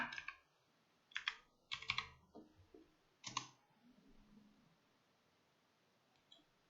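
Computer keyboard typing while a search term is entered in Google: a few short bursts of rapid key clicks separated by pauses, fairly close and clear, with no talking.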